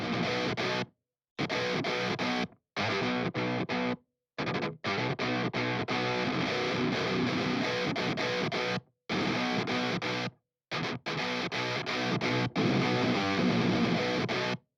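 Low-tuned distorted electric guitar runs through the MMS Clairvoyant amp sim plugin, playing heavy chugging riffs in bursts cut by short silent stops, steady and fairly dense throughout.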